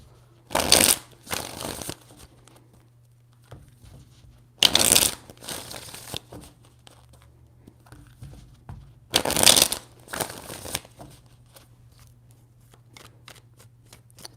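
Tarot cards shuffled in three separate bursts, each a loud, close riffling flurry lasting about a second, with quiet pauses between.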